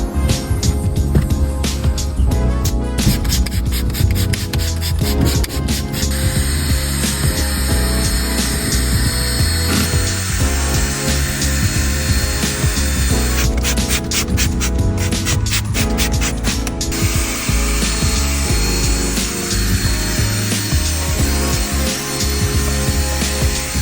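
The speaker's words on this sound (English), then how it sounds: "Here I have our carpet cleaner spray and our drill brush." Loud, continuous whirring of a power drill spinning a brush, scrubbing car seats and carpets with cleaner spray, steadily with slight changes in pitch and rubbing texture throughout.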